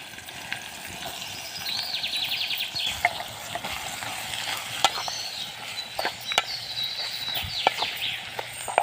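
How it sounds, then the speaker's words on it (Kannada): Steady sizzling of onions, green chillies and tomatoes frying in hot oil, broken by sharp clinks and scrapes from stirring in the pan, with no voices. "ಉಳ್ಳಾಗಡ್ಡಿ ಮೆಣಸಿನ್ಕಾಯಿ ಆಮೇಲೆ ಟೊಮೆಟೊ ಎಲ್ಲನೂ ಒಗ್ಗರಣೆ ಹಾಕೋದು ನೋಡಿರಿ"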